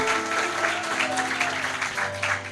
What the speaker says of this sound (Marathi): जोरात टाळ्या वाजवतात येशूसाठी.